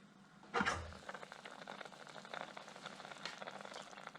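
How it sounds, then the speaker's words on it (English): Afghan Shorwa soup in a pot after simmering for 45 minutes, a faint bubbling and crackle with a louder clunk near the start, like a lid or pot being moved, then soft irregular popping. "the Shorwa soup has been simmering for 45 minutes"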